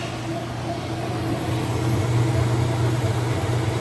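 Kenmore 80 Series washing machine with a newly replaced neutral drain kit, its clutch spinning up: a steady low mechanical hum and drone that swells slightly and holds, close and continuous, with no talking.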